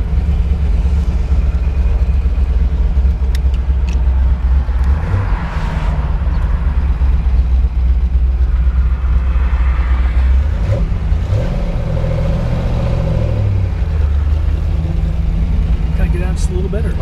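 A restored classic car built with NOS components cruises down the road at around 55, its steady engine drone and road rumble continuous throughout, with a shift in engine note partway through as it slows or turns.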